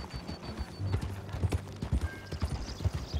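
A horse rides at a trot in Red Dead Redemption 2 near Pronghorn Ranch. The hoofbeats come close and loud in a quick, regular clip-clop rhythm, with no talking over them.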